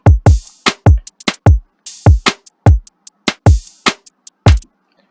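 Trap-style drum beat heard alone: heavy booming kicks and snappy hits in a syncopated pattern, loud and close, with crisp hi-hat accents riding on top.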